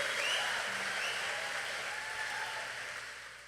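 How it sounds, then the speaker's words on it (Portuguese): A congregation at a church congress applauds in a steady, dense wash of clapping that slowly fades. "Pode aplaudir, pode aplaudir."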